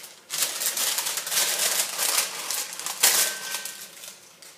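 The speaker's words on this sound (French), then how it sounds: "On coupe les bords de papier qui dépassent." Scissors cut around the parchment paper lining a cast-iron cocotte, trimming the excess edges around a ball of bread dough; close, steady crisp snipping and paper crinkling with no speech.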